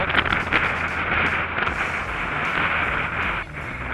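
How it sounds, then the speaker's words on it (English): Storm wind gusts and buffets across an Ozark Trail tent, a loud, continuous roaring rush with irregular swells and flaps close to the microphone. "And the wind just seems to blow right over it"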